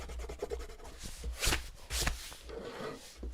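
An eraser rubbing graphite lines off a pencil drawing of a bottle: quiet, irregular scrubbing strokes, several short bursts of friction close up, with no one speaking.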